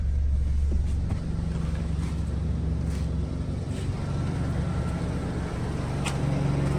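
A 2018 Audi S3 engine idles, a steady low hum with faint wind-like noise over nearly seven seconds.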